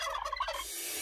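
A turkey gobble sound effect in a Romanian radio jingle for turkey meat, a short rapid warbling burst that is loud and close, with no talking over it.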